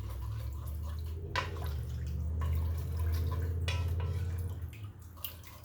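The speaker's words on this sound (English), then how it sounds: "you want to add 2 cups of beef broth. Just kind of stir the bottom of the pan really well" Beef broth poured into a pan and stirred to deglaze the bottom, heard as close liquid sloshing and dripping with a few sharp clinks of a utensil against the pan, steady throughout.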